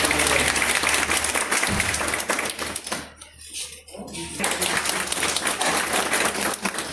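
A ceremony crowd claps loudly at a Samvidhan Gaurav Abhiyan event, applauding the welcome of a district president. The dense applause runs steadily, thins briefly in the middle, then swells back to full strength.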